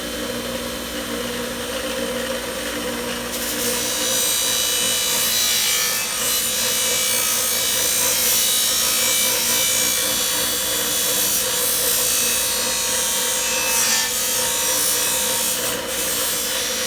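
An aluminum part pressed against a spinning buffing wheel: a steady, loud, hissing abrasive rush that runs continuously with slight swells as pressure shifts, close up and without any talk.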